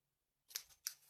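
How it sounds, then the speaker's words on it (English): Sticky scissors trimming the ends of paper: two quick close snips about a third of a second apart after a short silence, crisp and near, with no talking. "Trim our ends with our now sticky scissors,"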